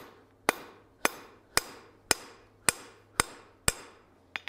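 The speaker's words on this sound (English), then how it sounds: "we're going to strike this to upset this enough that it pins it together so these two halves don't come apart" Heavy hammer blows strike a rivet on an anvil, upsetting it to pin the two halves of precut farrier tong blanks together: seven loud, sharp, evenly spaced ringing impacts with a faint low hum between them.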